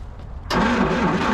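A 1954 Plymouth Savoy engine cranks briefly and catches, jumping abruptly into a loud, steady running idle close by.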